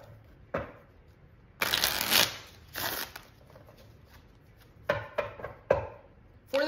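A deck of game cards is shuffled in several separate bursts of riffling and snapping, close and fairly loud, with quiet pauses between and no talk.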